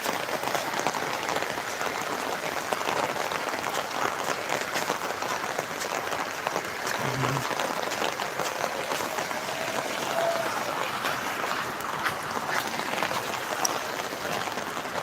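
Heavy rain pours down steadily over flooded streets beside a canal, a dense broadband hiss that holds constant throughout, with a brief low thump near the middle and no voices.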